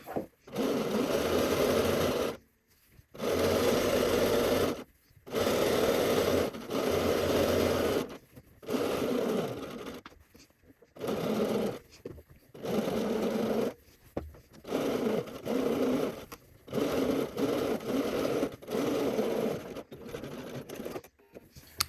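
A sewing machine top stitches around the hem of a Cashmerette Haskell shirt, running in several bursts of steady, close whirring separated by short pauses, with no talking.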